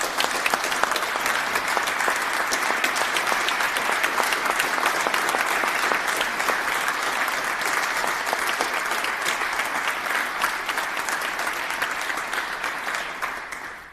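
A room of people at a legislative tribute gives a sustained round of applause for the clerk and staff, a thick, steady clatter of many hands that carries on evenly for over ten seconds before fading at the end.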